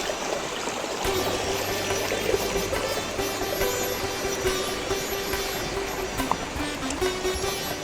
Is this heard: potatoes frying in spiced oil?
no